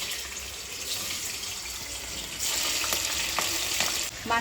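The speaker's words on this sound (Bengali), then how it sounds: "তেলটা খুব ভালোভাবে গরম হয়ে গেছে, চিংড়ি মাছগুলো ভেজে নেবো।" Prawns frying in well-heated oil in a home kitchen, a steady close sizzle and crackle that swells louder partway through, with brief scraping clinks near the end.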